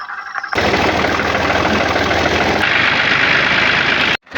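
A tractor engine catches after a struggle to start, bursting into a loud, steady, close diesel rumble with a knocking throb that runs for several seconds before cutting off abruptly near the end.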